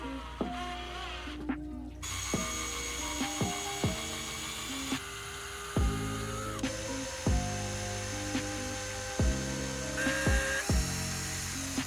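A power driver sinks 1 1/4 inch screws into a wooden DIY pedalboard in a series of short whirring bursts that rise and fall, each ending with a sharp click, close and steady.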